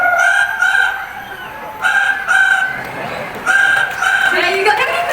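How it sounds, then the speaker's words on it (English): A rooster crows loudly and close by in three evenly spaced, near-identical calls, each a drawn-out harmonic cry, with only faint background between them. "How about the rooster?"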